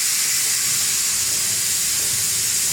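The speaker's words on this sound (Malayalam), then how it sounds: "ഇനി കുക്കർ വായടച്ചിട്ട് പറയാം." Pressure cooker on a home kitchen stove releasing steam, a steady loud hiss that holds without pause, no talking.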